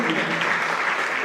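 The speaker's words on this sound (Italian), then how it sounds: "così magari le fanno un applauso" An indoor audience at a rugby champions event applauds a 90-year-old member of the crowd. The dense, steady clapping lasts a brief moment, with voices mixed in.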